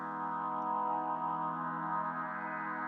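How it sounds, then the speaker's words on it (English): A sustained synth chord runs through an Eventide Blackhole reverb in AUM on an iPad, a steady, dense wash of layered tones holding at an even level throughout. "So this is the Eventide black hole reverb."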